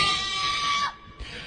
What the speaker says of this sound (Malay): Saya pun pekik sekuat-kuatnya.